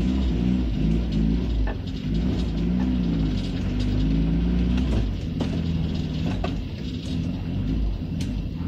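A Volkswagen Voyage car engine rumbles loudly and steadily up close, a deep droning hum with faint mechanical clicks over it, heard continuously without talking.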